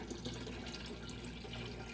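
Filtered water pours steadily into a kombucha jar, a soft continuous trickle and splash at low volume without pause or talk.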